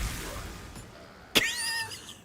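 A bee explosion in a video game lands as one sharp, bright pop, followed by a cluster of sweeping whistly chirps that fade over the next half second against a quiet background.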